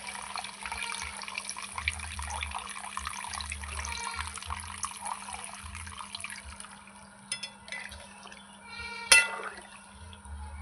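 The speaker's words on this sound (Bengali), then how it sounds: "এবার জল দিয়ে দেবো" Water poured steadily into a cooking pot of fried potatoes and spices for a duck egg curry, a continuous close splashing flow with a brief louder splash near the end.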